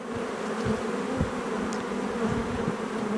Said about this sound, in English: See how many bees we have.